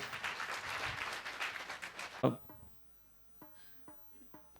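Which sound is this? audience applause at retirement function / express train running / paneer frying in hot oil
audience applause at retirement function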